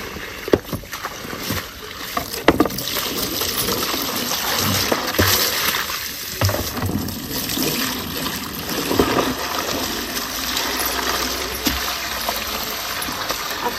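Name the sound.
washing fenugreek greens in a tub of water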